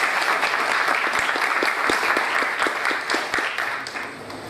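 Audience applause for a commendation recipient at a heraldic society's opening ceremony, a full, steady burst of many hands clapping with a few sharp individual claps standing out, fading slightly at the end.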